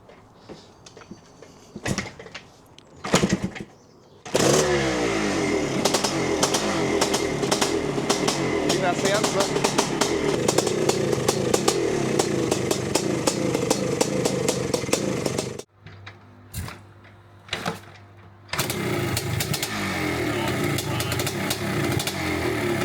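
A Yamaha IT490 dirt bike is kicked over and fires into a loud, buzzing two-stroke rev held at high throttle for about ten seconds, then cuts out and restarts, with people talking nearby.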